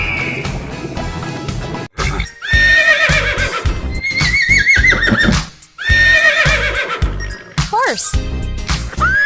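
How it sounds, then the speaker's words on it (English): Horse neighing in repeated loud whinnies, several rising and falling calls in a row, with hoof clip-clops and a clatter around them. "Horse."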